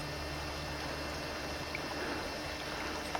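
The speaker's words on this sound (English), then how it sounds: "I hear the water running down there into more of a creek." Meltwater from a glacier runs down into a creek, a steady, faint broadband rush of flowing water heard from a short distance, continuous and even with no voices.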